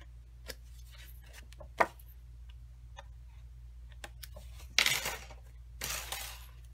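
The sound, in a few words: scissors trimming paper for a card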